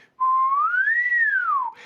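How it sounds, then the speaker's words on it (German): A single person whistles a smooth interval, the pitch gliding upward and then back down in one sustained, clear tone lasting about a second and a half, close and alone with no talking. "Also wir pfeifen ein gewisses Intervall"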